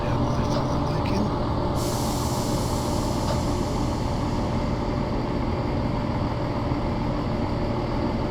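Train brakes in the Train Simulator video game: a sustained loud hiss and rumble with a sharp burst of air release near the start, then a steady grinding drone that continues to the end.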